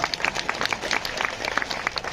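An audience at a speech claps in a steady burst of applause, many hands patting fairly close and moderately loud, with no talk over it.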